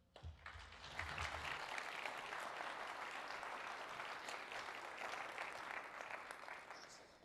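Public university lecture audience greets the lecturer with sustained applause, a dense spread-out clapping from a large room that swells quickly and holds for several seconds.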